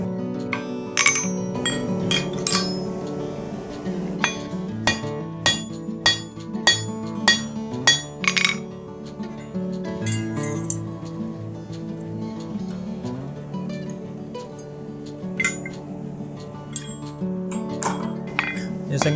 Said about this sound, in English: hammering it out so I get the material where I want it